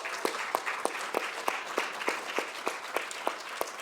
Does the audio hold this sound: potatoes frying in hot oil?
no